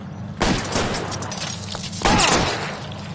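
Loud bursts of gunfire in an L.A. Noire shootout, two heavy volleys with a dense crackling tail between them, close and dominant with little talk.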